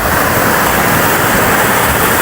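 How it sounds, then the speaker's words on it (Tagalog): Loud, continuous roar of crashing surf at Bagasbas Beach in Bicol, a dense rushing wash of water with no pauses and no voices. "Ang laki ng alon."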